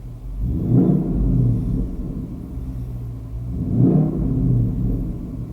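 Ford Mustang GT with a Corsa Extreme exhaust, idling loud and deep, then given two short revs a few seconds apart that swell into a heavy, close rumble before settling back.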